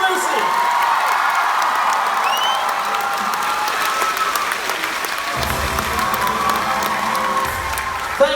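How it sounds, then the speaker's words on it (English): A theatre crowd at a live tour show in Manchester's Apollo applauds and cheers loudly, a dense wash of clapping with whoops that carries on for several seconds before thinning slightly. "Everyone give a cheer for Lucy!"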